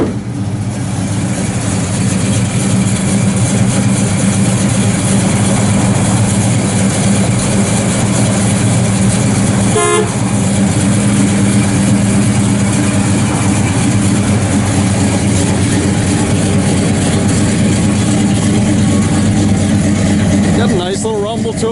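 A 1971 Pontiac LeMans Sport with a 400 engine, Doug's headers and a full exhaust idles steadily with a deep, continuous rumble throughout, close and loud, with a brief break partway through.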